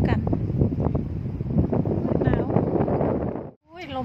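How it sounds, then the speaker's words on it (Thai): Strong wind gusts across a snowy outdoor setting, roaring steadily and loudly against the microphone for about three and a half seconds before dropping away abruptly, with a voice briefly heard at the end. "ลมแรง"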